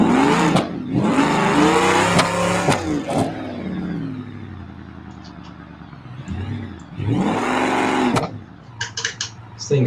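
A rock crawler's engine or motor revving hard at full throttle in bursts, whining up and dropping back several times, close and loud, with brief pauses between pulls.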